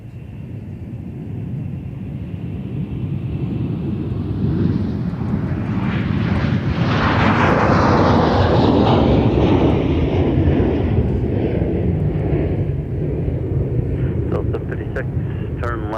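A Delta airliner takes off from runway 30 left at Minneapolis–Saint Paul airport. The jet roar swells over several seconds, peaks loud, then slowly fades as the plane climbs away, with an air traffic control voice talking over it.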